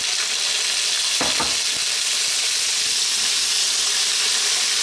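Potatoes frying in a pan for a chicken potato curry, a loud, steady broadband sizzle with a brief burst of stirring and scraping near the start, then continuous hissing.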